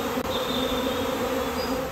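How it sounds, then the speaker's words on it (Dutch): A honeybee swarm pours out of its hive in a food forest, a loud, steady, dense buzzing hum of thousands of bees that fills the whole moment without any talking. "Duizenden bijen verlaten hun kast op zoek naar een nieuwe woning"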